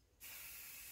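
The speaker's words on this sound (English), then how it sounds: "Spray it on these other little branches, on the leaves." An aerosol can of Buck Bomb deer scent sprays in one steady, loud, close hiss onto small branches and leaves at a mock scrape, starting abruptly after a brief quiet moment.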